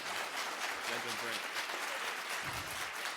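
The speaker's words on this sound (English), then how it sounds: "I would like to just give a big round of applause to this group, Sixto and the kids." Crowd applause at a technology education conference stage spotlight, broad steady clapping filling the space throughout, with some talk and murmuring underneath.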